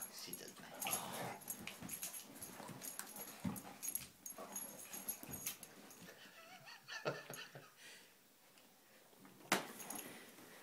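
Faint, soft puppy whimpers and small yips come through in scattered bursts against a quiet indoor background, with a person speaking gently at times.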